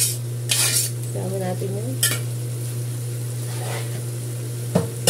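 Ground meat sizzles in a pan while a utensil scrapes and stirs it, with clinks of metal at intervals over a steady hiss and hum; a person speaks briefly near the end.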